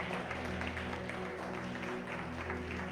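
A church congregation applauds Jesus during a resurrection sermon, steady dense clapping heard over a sustained musical backing that hums underneath throughout, moderately distant.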